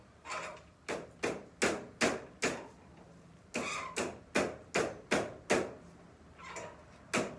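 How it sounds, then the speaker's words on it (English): Hammer blows land in two bursts of rapid, evenly spaced strikes, sharp and fairly close, with a short pause between the groups. "Probably hammering too much"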